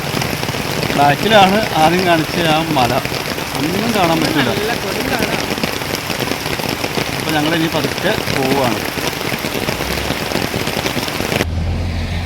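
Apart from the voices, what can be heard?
heavy rain falling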